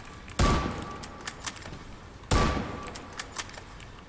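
Two loud sniper rifle shots in a video game, about two seconds apart, each a sharp crack with a short ringing tail, followed by faint clicks and handling sounds.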